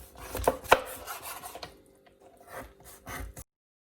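A knife cuts cleaned pollock fish into pieces on a board, making a few soft irregular chopping knocks close by, then a brief scrape before stopping.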